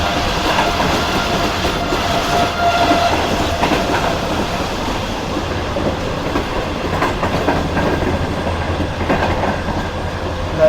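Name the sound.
passenger train running at speed on the tracks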